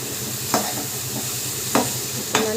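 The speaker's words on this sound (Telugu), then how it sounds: "ఇప్పుడు మనం పచ్చిరొయ్యలు వేసేస్తున్నాం" Raw prawns hit a hot pan with curry leaves, a steady close sizzle broken by three sharp stirring scrapes.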